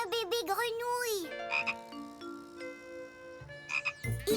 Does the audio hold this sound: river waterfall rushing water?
no